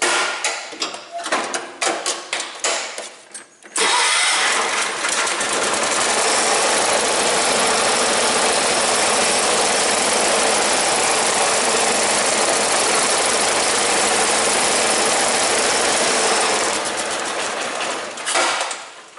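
Sears lawn tractor engine firing on choke with a few sputtering catches, then settling into a loud, steady running roar with a rapid knocking pulse that fades slightly near the end.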